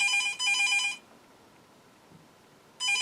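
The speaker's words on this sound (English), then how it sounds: "and the phone's ringing" A home telephone rings in two quick electronic trill bursts, then pauses and starts a fresh ring, sharp and fairly loud over a quiet room.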